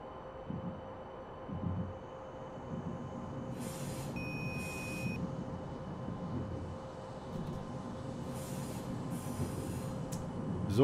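An IC train rolling into a station platform in Train Simulator 2022, steady rumble of wheels on rail with a long sustained squeal, a couple of hissing bursts and a short chime, no talking.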